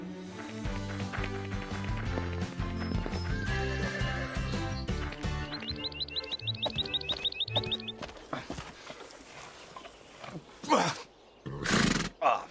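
Cartoon horses on a ranch, with a burst of rhythmic hoofbeats under music, then a rapid rhythmic galloping figure, followed by a couple of loud, close neighs and snorts near the end.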